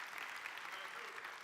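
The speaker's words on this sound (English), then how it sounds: "Would you give this guy a round of applause real quick?" An audience gives a quick round of applause for a volunteer from the crowd, a steady, fairly faint wash of clapping heard from a distance.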